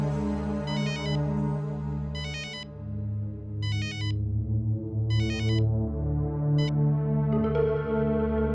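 A phone ringtone rings unanswered on a call to a father, with repeated bursts of bright electronic chimes over a steady background hum. No one picks up before the ringing stops.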